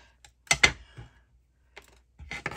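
Scissors snipping paper ephemera at a crafting table: a few close, crisp clustered cuts, the loudest pair near the start, then scattered softer snips and a final burst, with no talk.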